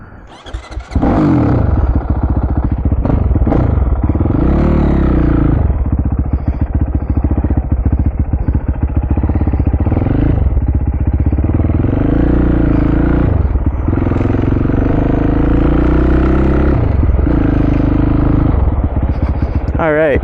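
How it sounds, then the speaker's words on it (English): A Honda CRF 480 supermoto motorcycle is ridden, its engine starting up and then droning loudly with repeated rises and falls in revs as it accelerates and slows, heard up close throughout, with a voice talking over the engine. "this is my first time riding this bike"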